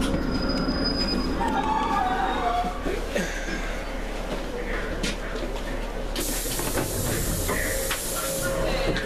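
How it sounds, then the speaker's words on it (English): East Midlands passenger train, the Liverpool Lime Street to Nottingham service, pulls into Warrington Central station with a steady rumble, hiss and squealing wheels, loud and continuous at the platform, with a voice faintly audible. "just now arriving in the 1718 East Midlands train service from Liverpool Lime Street to Nottingham via Manchester, Piccadilly"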